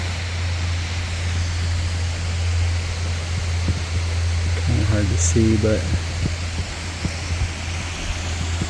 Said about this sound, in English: I can hear water running all around us.